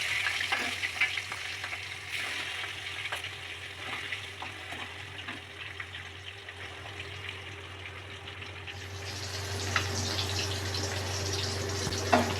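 Katla fish pieces fry in oil with a soft, steady sizzle and scattered pops, growing a little louder and busier toward the end, with no voices.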